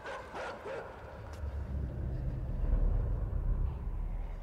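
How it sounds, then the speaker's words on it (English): Dogs in the video game Inside bark and yip in a few quick bursts early on, then give way to a steady low rumble of movement and engine-like noise in the game's dark soundscape. "Are those dogs?"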